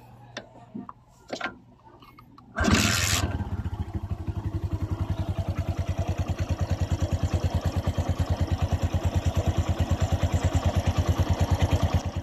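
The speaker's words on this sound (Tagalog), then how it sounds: "kailangan iparinig ko muna ang tunog sa inyong makina pagkatapos natin siyang ma-overhaul" A freshly overhauled Kawasaki Bajaj CT 100 motorcycle engine kicks to life after a few clicks and then idles with an even, rapid single-cylinder putter, close and steady for about ten seconds.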